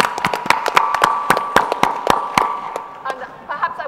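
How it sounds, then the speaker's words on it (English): Sparse round of applause for a speaker at a literary festival session, a handful of distinct near claps ringing out irregularly and thinning toward the end. "I think we should start this by one more round of applause for Arundhati"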